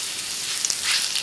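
Curry leaves frying in hot oil for tomato rasam, a soft continuous crackling hiss with faint pops, close but fairly quiet.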